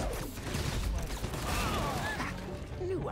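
Gunfire in Spider-Man: Miles Morales, a rapid burst of shots and clattering mechanical noise running steadily through the short moment, fairly loud and close, with faint electronic whines mixed in.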